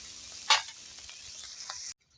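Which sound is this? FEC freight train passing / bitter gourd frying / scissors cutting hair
bitter gourd frying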